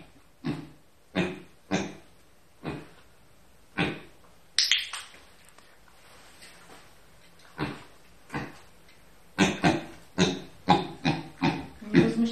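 A pet pig indoors gives short, sharp grunts, a few at a time at first and then in a quicker burst near the end, close and fairly quiet.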